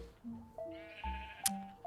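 A sheep bleats in Minecraft's flower forest, giving one wavering, nasal bleat over soft game music notes.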